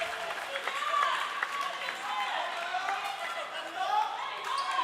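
Crowd applause and cheering at a professional pickleball match at the V&M Open, steady and fairly loud throughout, with a commentator talking over it.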